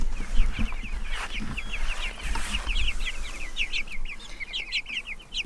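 Broiler chickens cluck and chirp continuously in a field pasture, many small bird calls overlapping at moderate distance over low wind rumble, with no talking.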